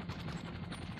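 Rapid automatic gunfire fills a brief moment of online play in GTA V, dense and continuous with a fast rattling pulse and loud, booming low end.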